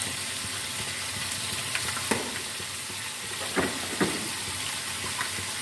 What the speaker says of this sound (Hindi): आंच पे हमने देखें चिकन को भी और साथ में प्याज को भी हल्का सा फ्राई कर लिया है।